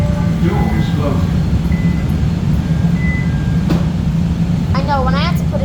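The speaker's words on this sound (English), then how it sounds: "This is the blue line train to O'Hare." Riding inside a Chicago Blue Line subway car toward O'Hare, a constant heavy rumble of wheels and motors fills the space, with brief tonal beeps and a sharp click near the end.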